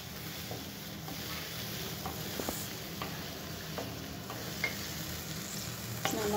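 Brahmi leaf kulambu, a Tamil curry, bubbling in a pot: a continuous close sizzling hiss with faint light pops and occasional stirring clinks, with no talk.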